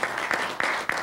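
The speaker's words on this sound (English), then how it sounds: "Let's give Jason a round of applause." Conference audience applauding a panelist at a CEO leadership panel, a short burst of steady clapping with a few sharper claps standing out, fairly close and moderately loud.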